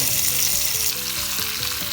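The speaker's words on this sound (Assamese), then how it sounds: "কেৰাহী গৰম হৈ যোৱাৰ পিছত যিহেতু পিঁয়াজ দি থোৱা আছে ডাইৰেক্ট তেলতে ডাইৰেক্ট দি দিছোঁ" Onions and capsicum fry in hot oil in a wok, giving a loud, steady crackling sizzle that carries through the whole stretch with no voices.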